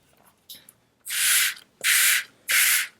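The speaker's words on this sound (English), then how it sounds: "Now I'm spraying some more." Three sharp, hissing bursts from a spray bottle spraying watercolour paint, each lasting about half a second, close by, after a few soft taps.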